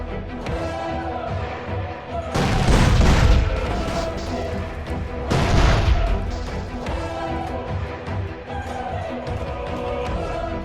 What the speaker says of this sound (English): Perfect timing, perfect aim, and I fired the rocket and took down Big Papa.